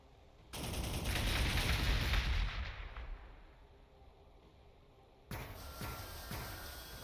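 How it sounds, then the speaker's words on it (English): Gunfire bursts in the strategy video game Warhammer 40,000: Gladius, a loud volley of shots lasting a couple of seconds that fades out, followed by a second sharper burst near the end. "Did fire some shots at the Warpsmith there."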